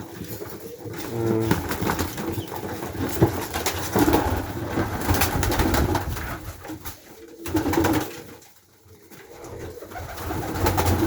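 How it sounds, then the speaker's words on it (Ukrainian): Pakistani pigeons coo softly over a busy outdoor background of rustling and low noise in Cherkasy region, Ukraine, with a brief quieter dip midway. "Голуби."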